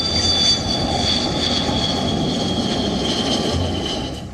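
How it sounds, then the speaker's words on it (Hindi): A MiG-29 twin-engine jet fighter roars loudly and steadily, a dense continuous whine and rumble that barely fades at the end. "दो इंजन वाले जेट फाइटर एयरक्राफ्ट।"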